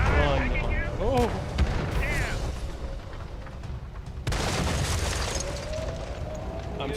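Artillery fire in World of Tanks: heavy booms and broadband blasts with a sustained rumbling barrage, a big impact near the middle, whistling tones early on, and game sounds layered over continuous low-end roar.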